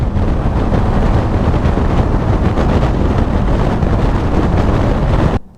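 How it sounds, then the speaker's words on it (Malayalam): Cold wind buffets the microphone by a roadside in Turkey, a loud, steady rumbling roar of gusts that holds for about five seconds and then cuts out abruptly. "നല്ല തണുത്ത കാറ്റുണ്ട്"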